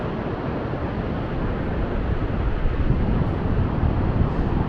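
Steady, loud wind buffets the microphone while driving through the Alps, a constant broadband roar with no pauses or voices.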